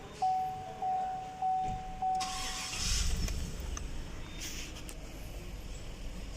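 A 2015 Chevrolet Tahoe with an engine misfire problem is started. A warning chime beeps four times, then the starter cranks briefly and the engine catches and settles into a steady, close idle.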